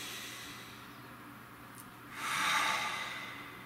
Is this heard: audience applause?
no